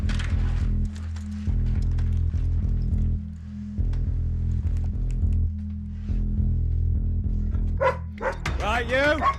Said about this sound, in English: A bark to Dunk will indicate she's picked up a scent.